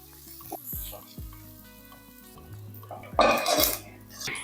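Oil sizzles steadily in a pan as okra sautés, with a few clinks of a utensil against the pan and a louder burst of frying near the end.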